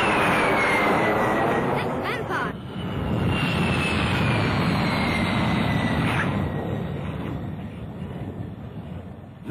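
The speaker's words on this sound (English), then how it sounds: "the eerie whistle of the jet" A 1950s jet aircraft passes overhead with a high, eerie whistle that slowly falls in pitch over a broad roaring rush, steady and fairly distant.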